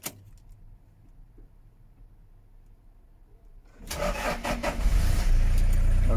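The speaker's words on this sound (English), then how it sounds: "this is a Toyota Hiace long version. I will start the engine now." A Toyota Hiace long-version van engine cranks and catches after a quiet stretch with a faint click, then revs up loudly and settles into a close, rough idle.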